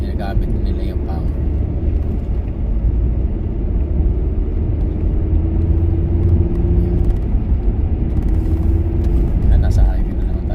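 A car cruising on a highway on the way to work in Canada, with a steady low road rumble throughout and a person talking over it.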